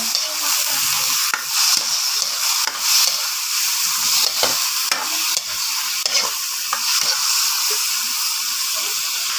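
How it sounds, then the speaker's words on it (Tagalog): Onion and garlic sauté in a pan while being stirred, producing a loud, continuous sizzle broken by scraping strokes and occasional clacks of the utensil, close up with no voices. "ginigisa ko na ang sibuyas at bawang. Haluin po natin."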